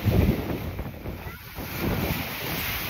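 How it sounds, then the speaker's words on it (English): Breeze blows at a beach, gusting against the microphone as a broad rushing noise, with surf rolling in the background. "there is a nice breeze blowing"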